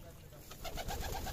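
Racer and Giribaz pigeons at a pigeon farm in Bangladesh, cooing in low, repeated throaty pulses that become more prominent toward the end, heard close against a faint background.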